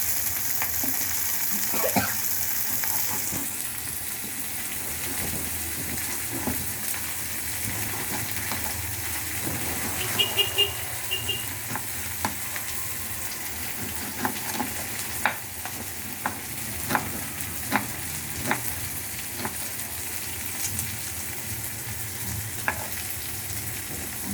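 Onions sizzle and fry steadily in a pan for kuska plain biryani, a continuous close hiss with occasional soft stirring clicks and light scrapes scattered through it, no voices.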